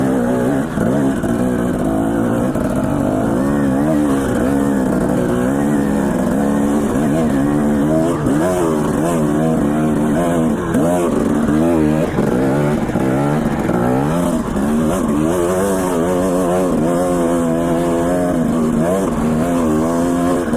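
Dirt bike riding on Idaho trails, the motorcycle engine droning and revving continuously up and down close by for the whole stretch, loud and unbroken with wind noise.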